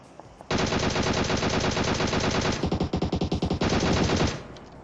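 Gunfire in PUBG Mobile, a loud continuous burst of rapid automatic fire that turns into distinct separate shots midway, then returns to a sustained stream before cutting off abruptly.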